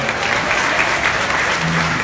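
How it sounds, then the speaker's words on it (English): An audience at a Caribbean comedy show claps in a steady, dense round of applause that fills the whole moment, close and loud with no talk over it. "Give Kenneth a wonderful round of applause again,"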